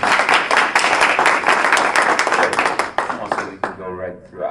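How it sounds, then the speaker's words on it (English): An audience claps for a guest during an interview event, dense steady applause that fades out toward the end as a voice begins speaking. "you can give her a round of applause"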